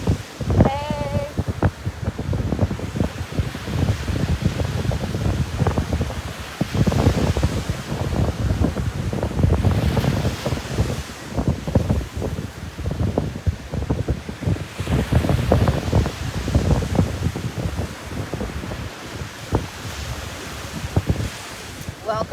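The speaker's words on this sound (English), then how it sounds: "Welcome to the beach." Ocean waves roll and break steadily along a beach while gusty wind buffets the microphone, the surf swelling and easing in rhythmic surges throughout with no clear talk.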